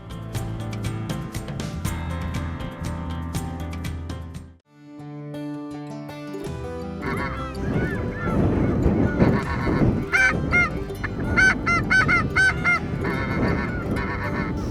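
Geese honking during a waterfowl goose hunt at Honey Break, loud and continuous with a busy flock chorus of overlapping calls, a brief dip midway, then denser honking resuming.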